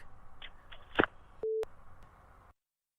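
After a phone call is hung up, the line gives a single short, clear tone beside a few clicks and faint hiss, then falls silent.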